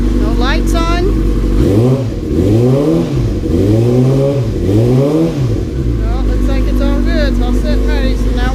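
A motorcycle engine that has just had its radiator flushed runs steadily, its hum repeatedly revved up and back down in a close, loud rising and falling pattern.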